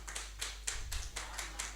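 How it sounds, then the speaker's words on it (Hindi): Audience at a stage programme clapping in a faint, even rhythm, about eight distinct claps over a low steady hum. "एक बार अपने लिए भी जोरदार तालियां बजा लीजिए"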